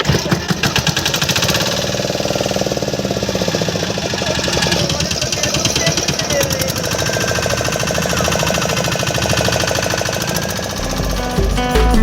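A hired motor boat runs on the Subarnarekha river mouth near Digha, its engine chugging with a loud, steady, rapid knocking throughout, close at hand with no talk.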